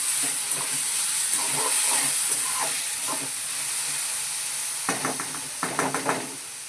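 Sabudana khichdi with salt sizzles steadily in a pan while a spoon stirs it, scraping in soft strokes and then a quick run of close clinks near the end.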